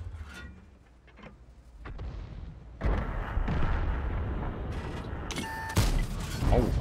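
Artillery shells in World of Tanks boom and explode, a quiet opening giving way to several heavy impacts and rumbling blasts that grow louder and denser toward the end.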